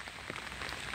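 A brief, faint, steady hiss of rain pattering on surfaces, with no voices.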